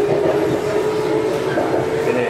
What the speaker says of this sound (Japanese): RER って書いてあった電車に乗れました。